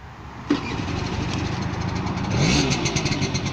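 A 1985 Honda Vision moped engine coughs into life and runs steadily, its small two-stroke note holding a continuous buzzing idle that rises slightly toward the end, close and fairly loud with no talk.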